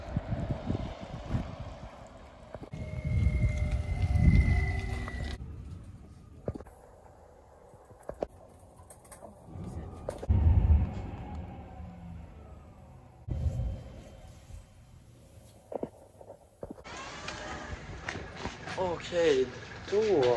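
City bus on line 25 heading to Gävle, a low engine rumble rising and fading as it moves, with rattles, wind noise and shifting road sounds, and a person talking over part of it.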